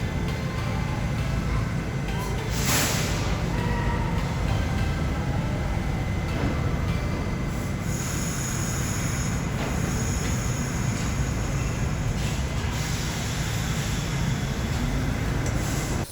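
A vintage MTA subway train runs through Herald Square station, a steady loud rumble of wheels and car motion with metallic squeals and hiss over it, continuous throughout.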